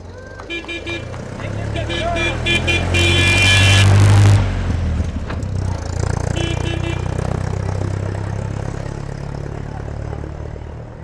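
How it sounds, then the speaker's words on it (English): An official car rolls through a crowd at a downtown Newmarket ribbon-cutting re-dedication. A close engine rumble rises and fades, with short horn toots, while people talk nearby. "we're going to have the official car come through."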